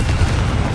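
A Confringo blasting spell in Hogwarts Legacy goes off as a short, loud, booming explosion with a deep rumbling body.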